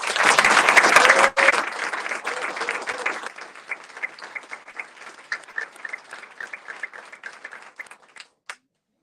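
An audience at a school board meeting applauds 2024 AVID standout students: dense, loud applause that thins over several seconds into scattered individual claps before stopping.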